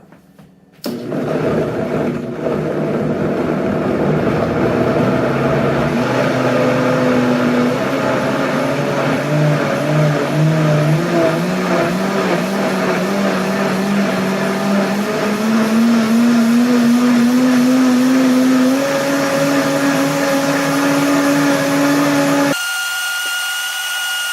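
A Mueller DuraBlend Professional Series 2-horsepower blender starts abruptly and runs loud and steady for about twenty seconds, its motor pitch shifting upward as it blends, then cuts off sharply.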